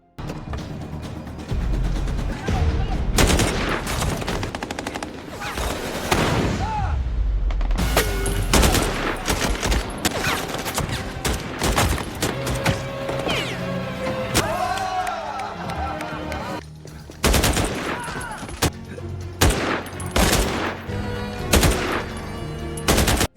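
Rifle gunfire in a film attack scene, with loud close bursts of rapid shots and single cracks mixed with impacts, slams and intermittent voices.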